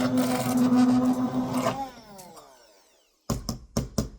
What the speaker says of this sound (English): We're going to use our immersion blender again, and we're going to blend this to smooth consistency